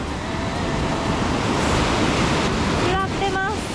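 Ocean surf rolling and breaking at a Canadian surf spot, a steady loud wash of whitewater filling the whole stretch, with a brief voice rising over it near the end.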